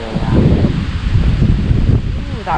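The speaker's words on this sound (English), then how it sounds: "that wind" Wind gusting outdoors at a fifteenth-century manor house, a close rumbling buffet against the microphone with some rustling, loud and continuous, with a voice briefly heard near the end.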